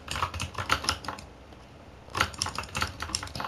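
Rapid computer keyboard typing in bursts of quick clicky keystrokes, a pause near the middle, then another fast flurry, close and fairly loud with no talking.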